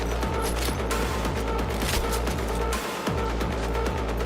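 Gunfire in the video game Cyberpunk 2077 comes as loud, rapid, evenly spaced shots with heavy low thumps, firing continuously over a dense background with only a brief break partway through.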